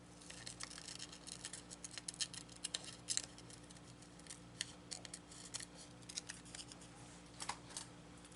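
Scissors snip through collage paper in a quiet art-making session, a sparse series of small close cuts spaced irregularly over a low steady hum, with no voices.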